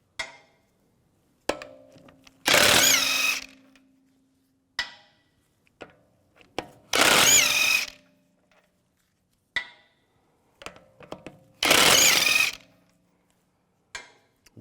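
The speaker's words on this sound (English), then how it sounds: "Now take the wheel off, use a 17mm socket. Take these lug bolts off." Lug bolts come off a 2004-2010 BMW X3 front wheel with a 17mm socket, heard as three loud, roughly second-long mechanical bursts spaced evenly apart, separated by quieter clicks and metallic knocks.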